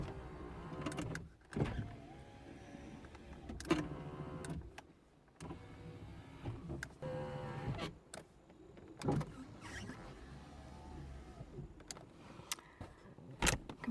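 Power windows on a 2004 Mustang run up and down in several separate cycles. Each brings a close electric motor whir that ends in a soft thunk, with quiet pauses between them.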